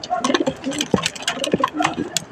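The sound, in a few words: young pigeon cooing in loft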